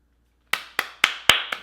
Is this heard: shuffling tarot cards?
no